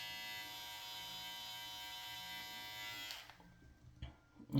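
Electric shaver buzzing steadily close up while a beard is shaved off, then cutting out abruptly near the end, followed by faint handling noises and a brief bump.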